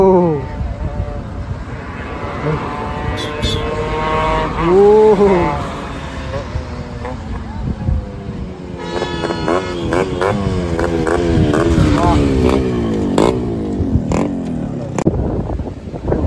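A Yamaha RX-Z two-stroke motorcycle engine revving and riding, rising and falling in pitch with loud passes and gear changes, heard under ongoing talk.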